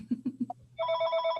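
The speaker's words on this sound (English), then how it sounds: "I don't think I've heard a phone ring like that." A telephone rings during a board meeting: a few short low electronic chirps lead into a sustained, bright warbling ring that sounds close and loud, with no speech over it.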